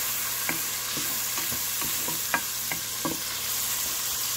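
Chopped tomatoes frying in a pan are stirred with a utensil, a steady sizzle underneath a series of light scraping taps spaced roughly every half second, close and moderately loud, with no talking.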